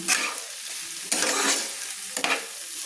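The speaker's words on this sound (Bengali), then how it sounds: "আমি মাঝারি টু লো ফ্লেমে নেড়ে নিচ্ছি, ভেজে নিচ্ছি সজনে ফুল আর আলুগুলো" Drumstick flowers and potatoes are stir-fried over a medium to low flame, with a soft continuous sizzle broken by a few sharp scraping stirs of the spatula, close and clear with no voices.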